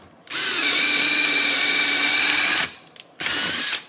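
A DeWalt DCD803B Atomic 20V drill boring with a 7/8 auger bit: a loud, high whine runs for about two seconds, stops, then a short second burst follows after a brief pause.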